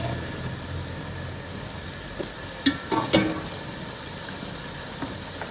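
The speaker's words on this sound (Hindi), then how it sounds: "अब ये देखें ये गोश्त भी मैं इसमें ऐड कर रही हूँ ताकि हमारा मसाला अच्छे से गोश्त में भी जज़ब हो जाए।" Beef frying in achari pulao masala gives a steady low sizzle with a few clinks and scrapes of stirring, close and moderately quiet, with no talk.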